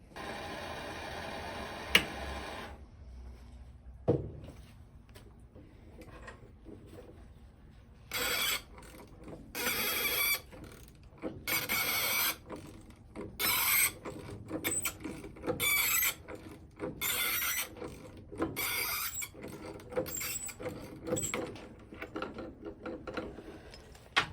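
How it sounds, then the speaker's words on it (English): Mechanical work on a DeWalt mitre chop saw as its stubborn pulley is removed: repeated metallic ratcheting and clicking bursts, near and fairly loud, in irregular runs with short pauses between. "Here's the video clip of me removing the pulley."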